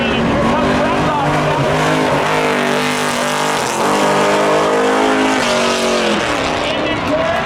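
A Ford and a Corvette race car thunder off the green flag at Seekonk Speedway oval, their loud engines roaring and shifting through gears up close, with an announcer talking over the din.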